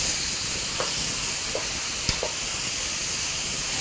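A pan full of vegetables stir-fries with a steady broad hiss and sizzle, a few faint clicks and knocks of utensils in between; fairly quiet and continuous.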